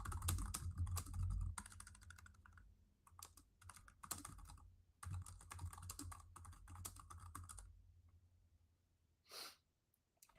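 Rapid bursts of computer keyboard typing, close and fairly quiet, with short pauses between runs of keystrokes and a faint breath near the end.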